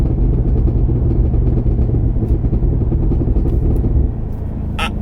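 A stock 2023 Cadillac Escalade-V in V mode, its exhaust a loud, deep rumble heard from inside while downshifting, with a sharp crackle of exhaust pops at the very end.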